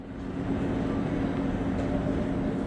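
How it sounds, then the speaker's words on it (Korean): A Saemaeul train rolling along snowy rails, heard from inside as a steady low rumble and hum that stays even and continuous, with no voices. "아침 8시 26분 새마을호를 탔습니다."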